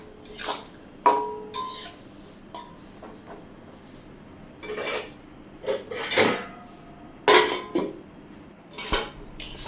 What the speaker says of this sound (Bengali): 2-4 মিনিট সিদ্ধ করার জন্য ভেন্ডিগুলোকে ঢেকে রাখবো